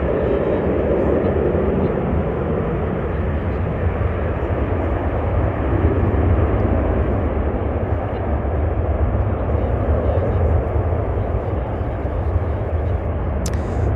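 A jet airliner roars loud and steady as it takes off at DFW International Airport, a broad continuous engine rumble filling the whole stretch with no pause.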